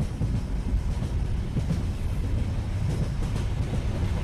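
A train runs at night in a cartoon ghost story, its steady low rumble and faint rattle continuous and fairly close throughout, with no voices.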